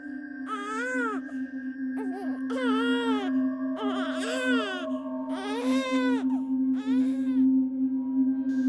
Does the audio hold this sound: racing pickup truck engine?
no